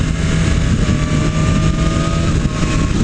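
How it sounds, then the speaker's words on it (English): A 2020 BMW S1000RR sport bike at high RPM: a loud, steady exhaust howl with a faint whine riding on top, held without a break for about three seconds from on board, with no speech. "the exhaust note in the higher RPMs, you know, when you're really ripping into it, it sounds pretty good"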